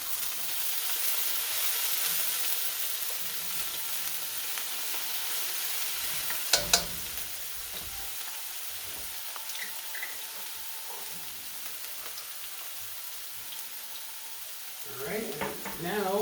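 Garlic frying in a pan for Cantonese soy sauce noodles, a soft steady sizzle with stirring scrapes, a couple of sharp clinks midway and a brief rustle near the end.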